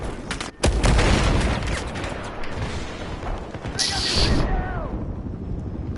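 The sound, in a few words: gunfire and tank fire in Battlefield 4 video game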